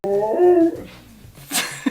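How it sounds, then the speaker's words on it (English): A husky howls loudly and close by in a rising, sustained vocal note lasting under a second, followed by quieter whimpering and a brief yip. "they just start howling at anything now"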